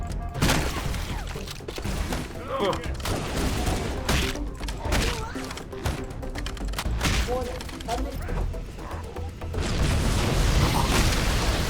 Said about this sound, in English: So much stuff just flew past me from those explosions.